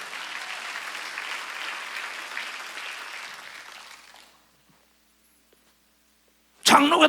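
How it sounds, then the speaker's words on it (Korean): A church congregation at a Korean Sunday worship service bursts into sustained applause for about four seconds, then falls silent before a sudden loud noise at the end. "박수쳐 못을."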